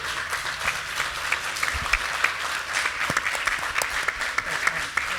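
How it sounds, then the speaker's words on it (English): Steady applause from a conference audience after a panel on EV and autonomous-vehicle infrastructure, a moderate, continuous patter of many hands with a few sharper claps standing out. "Let's give them a big round of applause, everybody."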